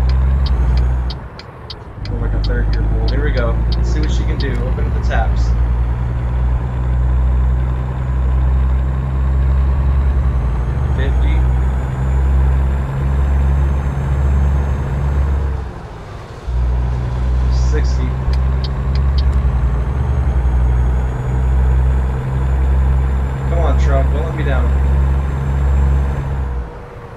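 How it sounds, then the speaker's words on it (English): A 1978 Scot A2HD truck in American Truck Simulator revs hard with a loud, deep diesel drone that climbs through the gears, broken by two brief dips at gear shifts, while someone talks over it. "I'm having fun driving this truck because you really have to rev it out to get the speed."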